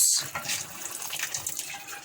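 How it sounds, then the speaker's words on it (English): Water pours steadily into a pot while ogbono and okro soup is being made, a soft continuous splashing rush that stays fairly close and even for a couple of seconds. "The quantity of water we want to use for the soup, we'll be adding it to the pot."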